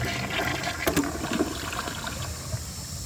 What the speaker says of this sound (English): Darfield Zone asks if I can flush a sock